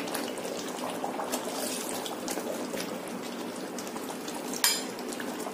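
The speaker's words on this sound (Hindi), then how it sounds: "अब इसको इस तरह ही गलने तक पकाएंगे।" Mutton korma cooks in an open pot after water is added, giving a steady low bubbling and simmering hiss with one brief sharper clatter near the end and no talking.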